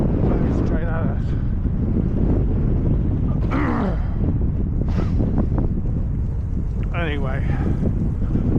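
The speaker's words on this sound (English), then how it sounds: "Oh, it's a cold wind, I don't know if you can hear it." Cold wind blowing straight at the rider on a windy ride home, a constant loud rumble buffeting the microphone, with someone speaking over it.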